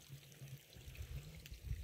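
Irrigation water flowing through an open channel in a sesame field in a village, a soft steady trickling and pouring that runs continuously at close range and fairly quietly, with no talking.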